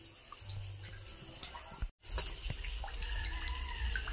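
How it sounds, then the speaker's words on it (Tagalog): Water drips into a backyard catfish pond, faint soft drops and trickling over a quiet background, with a brief moment of near silence in the middle. "Tumutulo pala, may tumutulong tubig sa aking pond."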